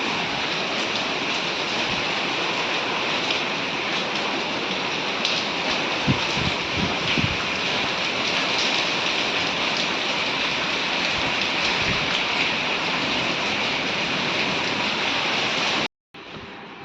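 Heavy storm rain pours down steadily in a broadband hiss for about sixteen seconds, with a few brief low thumps partway through before it cuts off abruptly near the end; no one speaks.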